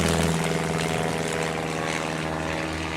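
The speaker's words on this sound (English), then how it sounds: "The Hawker Hart is a British two-seater biplane light bomber aircraft that saw service with the Royal Air Force." A Hawker Hart biplane light bomber flies at the 1966 Farnborough Airshow, its propeller engine droning in a steady, continuous hum at moderate loudness with no talk over it.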